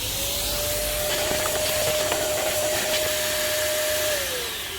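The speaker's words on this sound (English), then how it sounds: "so I'm just going to use a hoover real quick" A vacuum cleaner (hoover) sucks leaves and debris out of the air filter housing of an Audi S8 D4. It runs as a steady, close, continuous whine and rush for the whole stretch, with no talking.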